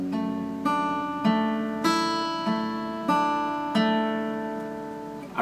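Acoustic guitar picking the verse of a song, six evenly spaced plucked chords ringing out clearly and decaying between strums, played alone with no voice.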